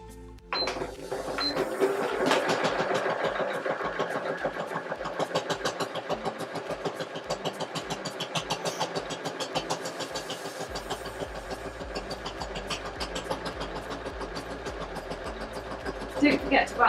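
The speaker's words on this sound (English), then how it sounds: "This sewing machine is amazing, and it's got a stop-start button" A sewing machine runs steadily with a fast, even mechanical stitching rattle for the whole stretch, loud and close, revving slightly near the end.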